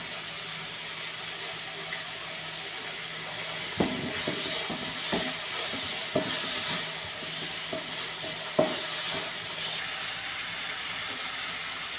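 Cashews and peanuts dropped into a pan with coconut give a steady, quiet sizzle of frying, broken by a few sharp clicks and stirring knocks, with no voices.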